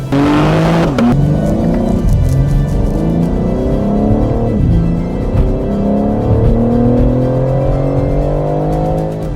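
A BMW M3 Competition xDrive with the ZF 8-speed automatic launches hard, its tires squealing at the start as the engine roars loudly upward through several quick gear changes.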